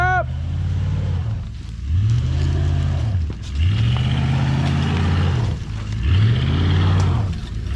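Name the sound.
1979 Chevrolet Malibu engine revving, tire spinning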